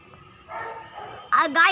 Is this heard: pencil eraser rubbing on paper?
no